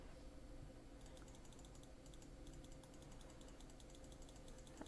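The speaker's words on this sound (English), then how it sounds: "I'm clicking everything." Rapid mouse clicks while playing a browser quiz game, a quiet, fast and fairly regular clicking over a steady background hiss, heard alone without any voices.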